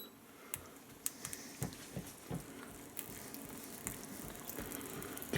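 An egg, not very fresh, frying in a pan gives a soft, steady sizzle with scattered small pops and crackles, faint and close, with no talking.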